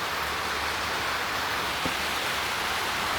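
Heavy rain pours steadily during a storm at a small mini farm, a dense, loud, unbroken hiss with no talking.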